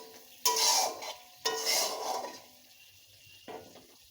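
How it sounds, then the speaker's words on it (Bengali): Spice masala for raw banana kofta curry, with a little red chilli powder, is sautéed and stirred in a pan, making two loud bursts of sizzling stirring that fade out and then a brief softer scrape. "দিয়ে আর একটু কষিয়ে নেব।"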